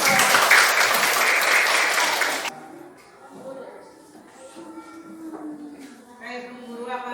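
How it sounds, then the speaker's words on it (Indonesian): A classroom of students claps together for about two seconds, a brief burst of applause that stops abruptly, followed by someone talking in the room. "Oke, tepuk tangan."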